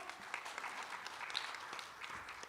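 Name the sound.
audience applause welcoming a panel chair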